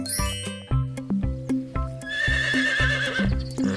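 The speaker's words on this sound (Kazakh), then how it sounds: "Бұл жылқының дауысы." A horse neighs loudly, followed by a long whinny, with rhythmic hoof clip-clops throughout.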